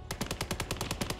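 Rapid machine gun fire from a World War II Eastern Front battle in Call to Arms - Gates of Hell, a steady burst of about a dozen sharp, evenly spaced shots that stays close and loud with no pauses.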